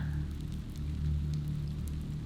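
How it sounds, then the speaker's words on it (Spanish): Steady rain falls outside at night, a soft continuous patter with a low rumbling wash, moderately loud and even throughout, with no voices. "Afuera llovía, pero ya no tan fuerte como un rato antes."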